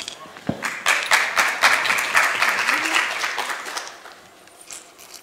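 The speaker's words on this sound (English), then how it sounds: "Applause." Audience applause follows a short poster flash talk at a scientific session, a steady wash of many hands clapping that fades out toward the end.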